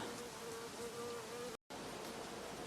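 A dense, steady hum of many honeybees buzzing close by at an open hive in an apiary, continuous and droning, briefly cut to silence for an instant before resuming.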